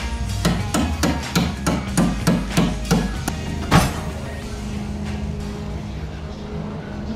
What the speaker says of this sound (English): then tap on all the clip nuts